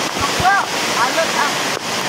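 Rain falls near a forest waterfall in Sanjay Gandhi National Park, Mumbai, forming a steady broad rushing wash of water with faint chirps above it.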